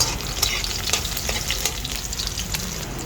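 Garlic sizzles in hot cooking oil in a pan, a close, steady crackling fry with small pops and a few stirring scrapes throughout.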